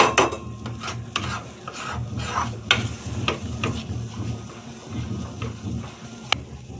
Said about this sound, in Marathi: हे मिश्रण सारखं आपल्याला नंतर व्हायला लागलं हलवीत राहायचं आणि साईडचं ते काढून घ्यायचं आपल्याला